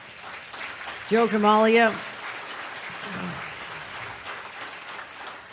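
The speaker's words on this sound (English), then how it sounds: "let's give him a round of applause anyhow" A room of police chiefs at an association gathering breaks into a brief burst of applause that swells and fades within a second, followed by a speaker's voice.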